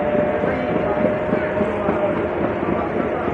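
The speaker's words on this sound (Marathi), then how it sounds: "डिपार्चर घेत आहे उगवे रेल्वे स्टेशनवरून." An Akot passenger train pulls out of Ugwe railway station, a steady, loud rumble and rattle filling the whole stretch without pause.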